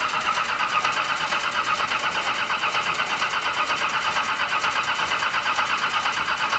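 A car engine is cranked and fires up for the first time after sitting, giving a steady, loud mechanical drone with a fast even pulse throughout, close by and with no talking.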